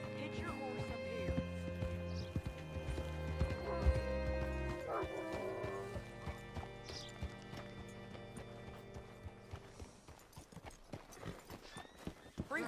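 Horse hooves clip-clop in Red Dead Redemption 2, a steady walking rhythm of hoofbeats that thins out and becomes sparser near the end, accompanied by occasional snorts and mixed with in-game voices speaking.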